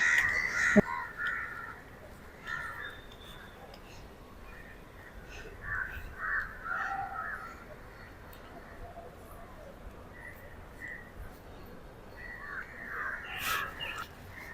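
Crows caw repeatedly at a moderate distance, harsh calls scattered across a quiet outdoor background with other birds faintly mixed in.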